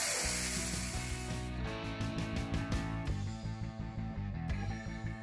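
A grinder whirs loudly while blending chickpeas into hummus paste, a dense steady mechanical drone with stuttering pulses as the blades churn, close and without talk.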